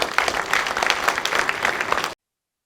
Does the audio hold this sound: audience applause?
yes